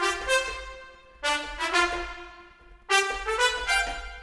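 Virtual trumpet notes played with one unvaried articulation, heard alone as three separate phrases of bright, sustained brassy tones. Each phrase starts with a clear attack and slowly fades.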